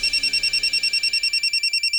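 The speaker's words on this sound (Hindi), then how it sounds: "किसका फोन है?" A telephone rings with a rapid, even electronic trill, a bright repeating burst pattern sustained for about two seconds, close and alone.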